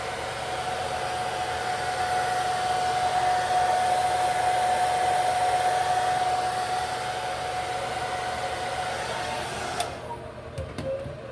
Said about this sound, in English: When I do the blow dryer, I always use it on low heat and I get really, really close